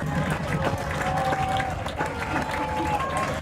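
The home crowd at a Napa Valley 1839 FC football match cheers after a goal, a steady, sustained roar of many voices with a commentator talking over it.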